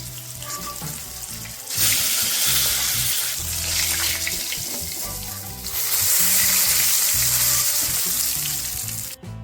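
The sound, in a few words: frying fish in oil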